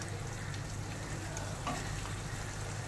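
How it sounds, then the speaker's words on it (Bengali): Chilli potato being stirred in a pan over a high gas flame: a steady, dense sizzle of frying runs throughout, with faint scraping from the stirring. "2-3 মিনিট নেড়ে নিয়ে সামান্য একটু জল দিয়ে দিচ্ছি"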